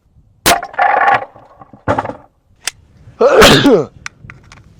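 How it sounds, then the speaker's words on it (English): A 10mm pistol round slams into a stack of wooden cutting boards: a sharp shot at the start, then a few short knocks, and a later burst of clattering, splintering noise. Nobody speaks. "10mm against our cutting boards."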